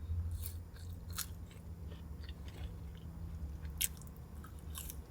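Crunchy bites and wet chewing on a McDonald's cheeseburger at close range, a few sharp bite crunches standing out over soft, steady mastication noises with no talking.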